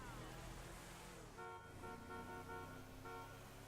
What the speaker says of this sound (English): I do not honk my horn that much.